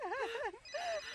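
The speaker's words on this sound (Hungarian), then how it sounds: "Valakinek csörög a mobilja!" A mobile phone ringing indoors, a warbling electronic ringtone with two quick trilling bursts, moderately loud and near.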